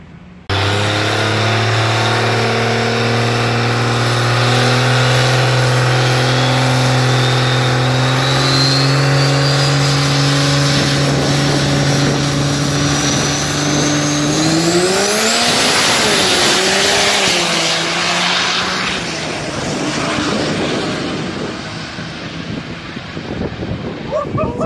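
A turbocharged 24-valve car engine revs loud and close, its note climbing steadily before rising sharply to a high-pitched peak and then settling back.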